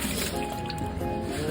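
Water draining from an automatic washing machine's drain pipe, a steady close gush and splatter that continues unbroken throughout the short stretch.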